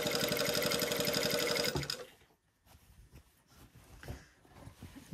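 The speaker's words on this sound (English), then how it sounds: "So we are sewing through all layers now." A sewing machine stitches through every layer of a bulky, fabric-heavy pair of Persephone Pants, running loud and steady up close for almost two seconds before stopping, followed by quieter handling and rustling noises.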